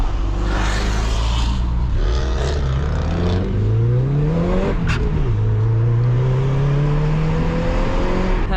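A Subaru Legacy engine in a driving video game revs and accelerates through the gears, loud and close with rising pitch sweeps and a brief dip at a shift, then climbing again steadily.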